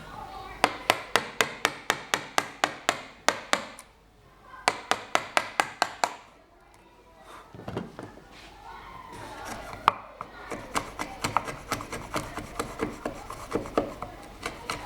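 A wooden mallet strikes a chisel to cut a trench, opening with a rapid, steady run of about a dozen sharp, close knocks, then quieter scraping and rasping of the wood before another burst of lighter taps.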